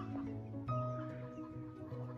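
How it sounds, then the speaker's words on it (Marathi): Chickens cluck on and off in a village on a calm morning. The calls are fairly faint and sit over a steady low background hum, with no talking. "सकाळच्या निसर्गरम्य वातावरणात कोंबड्यांचा आवाज येतच असेल."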